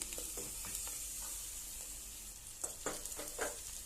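Finely chopped cabbage fries in a pan for cabbage palya made without added water, giving a soft, steady sizzle broken by scraping stirring strokes that grow busier in the second half.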